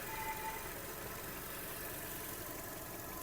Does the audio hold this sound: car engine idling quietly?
yes